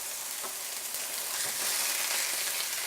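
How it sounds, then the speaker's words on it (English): Steady broadband sizzling hiss of chicken frying in an oiled pan, close and continuous, swelling slightly toward the end. "there's our sizzle that we like"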